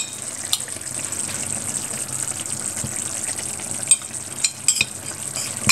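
Tomato and spices are stirred together in a tajine for kefta in tomato sauce, giving a steady, close sizzling simmer with soft scraping and a few sharper utensil knocks toward the end; no one talks.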